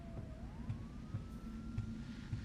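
A constant wailing siren in the Resident Evil 3 Remake video game, a faint tone slowly rising and holding steady over a low rumbling background.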